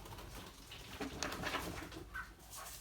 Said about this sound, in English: There's a bird in my house and the dogs are going a little bit crazy.